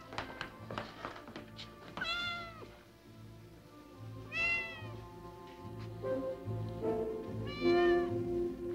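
An animated cartoon cat from a Lassie episode meows several times, with drawn-out, wavering meows spaced a couple of seconds apart over soft background tapping and music.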